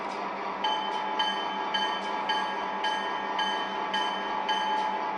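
A steady mechanical hum with faint, evenly spaced metallic dings repeating about every half second, like a small locomotive bell ringing.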